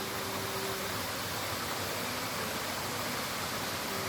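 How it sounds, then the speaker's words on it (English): The waterfall at Cascata delle Marmore park in Italy gives off a steady, unbroken rushing roar of falling water with no pauses. "waterfall is everywhere"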